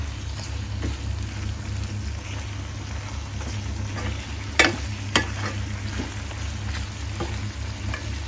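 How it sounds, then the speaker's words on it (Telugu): Mutton ghee roast stirred in a pan under a constant low rumbling hum, with faint sizzling and two distinct scraping strokes close together. "ఇదంతా మంచిగా కలపాలి."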